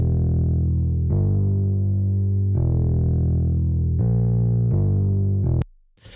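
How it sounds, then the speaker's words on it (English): A deep, sustained bass line plays alone, with long held notes changing pitch every second or so, ending in an abrupt cut. "The bass sounds like this."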